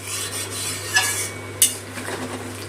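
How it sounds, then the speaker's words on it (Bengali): A spoon stirs hot water into a tilapia curry with potato and papaya in a pot, two sharp scraping knocks over a steady low hum and soft liquid swirling, close up, no talking. "জলের সাথে ভালো করে সব কিছু মিশিয়ে নিলাম"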